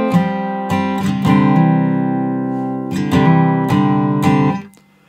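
An acoustic guitar in standard tuning plays the intro of a song, with strummed and plucked chords that ring out in clear, close, sustained bursts before fading.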